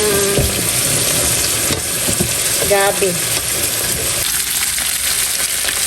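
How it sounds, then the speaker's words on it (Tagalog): Buraw (dried fish) sizzles and crackles in hot oil in a pan, close and loud, with clinks of a utensil and a brief spoken word. "nagpiprito na rin po ng isdang buraw"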